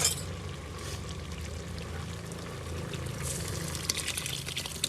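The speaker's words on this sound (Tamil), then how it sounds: "பருப்பு ஊத்துங்க." Lentil dal poured into a cooking pot during outdoor cooking, giving a steady, soft liquid pour and trickle that runs for several seconds at moderate, even loudness.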